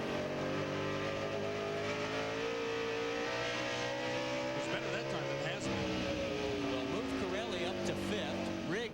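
Race truck engines in a 2000 NASCAR Craftsman Truck Series race rev and rise in pitch while throttling out of corners, a constant loud roar with shifting tones under a commentator's voice.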